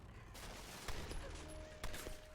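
Gunfire in the Tomb Raider video game, a steady dense roar of shooting with two sharper, louder reports standing out, heard without any talk over it.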